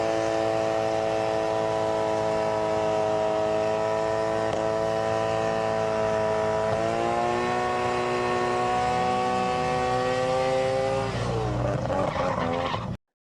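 Twin-turbo Nissan Skyline R32 GT-R with HKS turbos launching off the line at a drag race meet: a loud, sustained engine roar climbing through the revs, a shift step partway through, then a rough blast as it pulls away.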